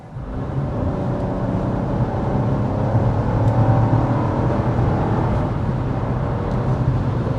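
A 2025 Buick Envista Avenir crossover with a six-speed automatic accelerating hard, a steady rising engine drone and road rumble heard from inside the cabin, loud and continuous with no talk.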